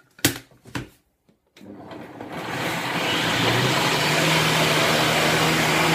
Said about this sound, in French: je vais de nouveau mixer durant 20 secondes, vitesse 10 de nouveau.